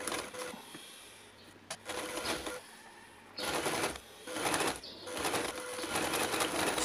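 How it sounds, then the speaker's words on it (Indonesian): A sewing machine stitches fabric onto a zipper for a bag, running in several bursts of rapid mechanical whirring separated by short pauses, close and clear. "Kita jahit."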